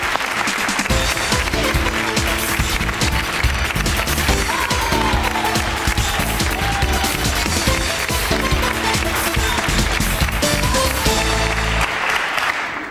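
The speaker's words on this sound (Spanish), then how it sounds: "Un aplauso para José." Studio audience applause on a Spanish-language daytime talk show, a loud continuous wash of clapping filling the whole stretch, with music playing underneath and fading out near the end.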